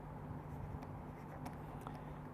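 A lecturer writes out a math definition. Faint, sparse scratchy strokes sit under a steady low room hum.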